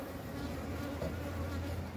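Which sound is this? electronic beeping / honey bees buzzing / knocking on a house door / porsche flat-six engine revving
honey bees buzzing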